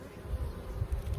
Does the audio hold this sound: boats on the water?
no